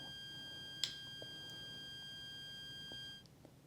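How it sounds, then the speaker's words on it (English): A DP-75 Geiger counter sounds a steady high-pitched alarm tone from its earphone for about three seconds before it cuts off. The tone is faint, with a few soft clicks over a quiet room. "you can hear the alarm from the earphone"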